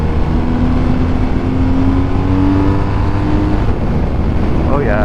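BMW R1250RS motorcycle engine shifting up through the gears with its quick shifter, a loud steady drone with a brief rising pitch sweep near the end, wind-buffeted and continuous, heard from the rider's position.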